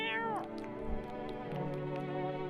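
A cat meows in the video game No I'm Not Human, a clear drawn-out high meow that slides downward, followed by softer game sounds and music, with no talking.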